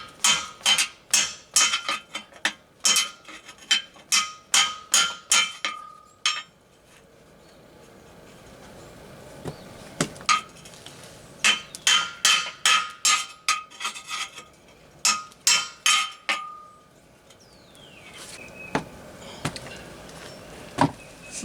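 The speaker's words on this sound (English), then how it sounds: "So I'm going to try and chisel that lip off." Sharp metal-on-metal strikes of a hammer driving a chisel into the worn steel lip of a trailer tongue, coming in quick bursts of several blows with short pauses between them, ringing and fairly close.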